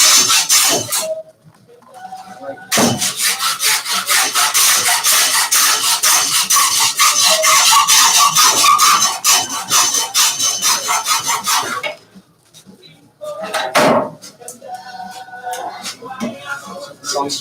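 Hand saw cutting through wood from top to bottom, a loud, steady rasping stroke rhythm running close up for about nine seconds, then pausing and resuming in short bursts.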